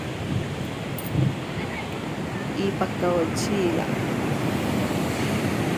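Water from a single open dam gate rushes in a steady, loud roar, with a person talking briefly over the torrent.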